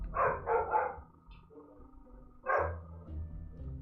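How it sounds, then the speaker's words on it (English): A dog barks in the background indoors: a quick run of three barks, a pause, then one more, with low murmuring noise between. "you can hear the dog in the background"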